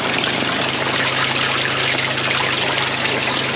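Rainwater pouring from a gutter into a barrel on an off-grid homestead, a continuous, dense splashing rush with steady loudness and a low hum beneath, no talking.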